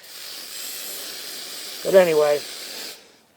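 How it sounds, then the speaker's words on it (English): A cheap aerosol hairspray can, used on model railroad scenery before flocking, lets out a steady hiss for about three seconds. Someone speaks briefly partway through the spray. "that's all you do is spray it like that"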